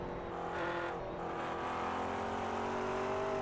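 An onboard view of a race car lapping at night in a 24-hour sim racing event at Spa-Francorchamps, its engine droning steadily with rising and falling pitch as it accelerates, loud and continuous.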